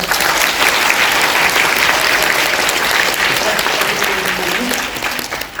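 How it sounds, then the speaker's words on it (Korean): Dense, loud audience applause fills a screening hall at the Bucheon International Fantastic Film Festival after a Japanese film, a continuous roar of many hands that holds steady and tapers slightly at the end. "큰 박수 부탁드립니다."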